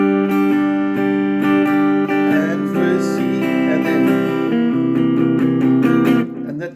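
Acoustic guitar chords strummed in a steady rhythm, ringing clearly and close, with a few chord changes before the final strum fades out.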